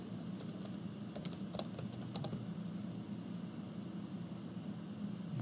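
A sudo netstat command typed on a computer keyboard: a short burst of faint, quick key clicks over a steady background hiss, then silence.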